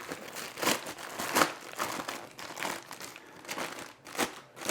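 Plastic packaging around resuscitation equipment for a swimming pool being handled after a bag is unzipped, close crinkling and rustling in uneven bursts, fairly quiet with no talking.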